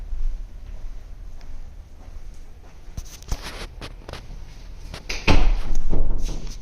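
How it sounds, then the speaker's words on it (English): Closing of the master closet door in a newly built house after a latch repair, with a few dull knocks and clicks of the latch and a louder thud near the end, set against quiet room noise. "Master closet door wasn't latching."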